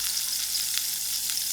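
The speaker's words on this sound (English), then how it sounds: "To my frying pan, I'm going to add in 2 tablespoons of margarine." Margarine sizzles in a frying pan with a constant, bright crackling hiss and small popping spits throughout.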